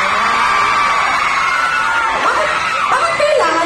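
A crowd at a live show with Regine Velasquez Alcasid shouting and cheering loudly and continuously, high-pitched whoops and screams blending into a dense wall of noise.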